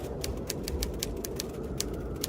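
Typewriter keys struck one at a time in an uneven rhythm, each sharp click standing out over a steady low background hum, with no voices.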